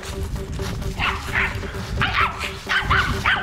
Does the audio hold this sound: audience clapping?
no